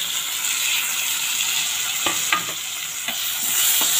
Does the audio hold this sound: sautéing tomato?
yes